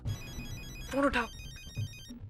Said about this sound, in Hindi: फोन उठाओ।